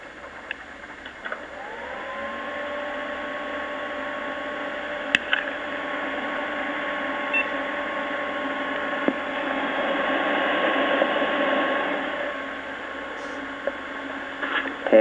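A newly switched-on gaming PC hums steadily with a whirring fan drone and a rising tonal whine, holding a constant level with a few small clicks.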